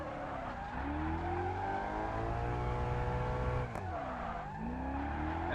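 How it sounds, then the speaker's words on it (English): Car engine revving in a racing video game while doing burnouts, a sustained rising and falling engine drone with tire squeal layered over it, loud and continuous. "time to do some burnouts here"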